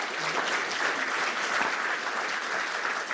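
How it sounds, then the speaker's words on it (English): An audience bursts into steady, dense applause for the fire chief at a community wildfire education night in Orinda, sustained and close at even loudness throughout. "I'd like to encourage us to give a big round of applause to first our fire chief, Isaacs,"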